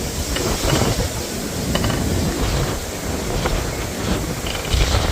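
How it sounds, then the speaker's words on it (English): Constant blustery wind roaring across the microphone, loud and unbroken with gusty swells throughout. "Yeah, it's definitely windy."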